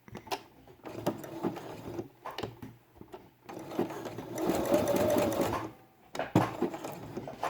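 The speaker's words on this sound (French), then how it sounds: "Et je viens faire un point zigzag." A sewing machine stitches a zigzag on felt for a quiet book, running in short bursts of rapid mechanical chatter with brief pauses between, close and moderately quiet.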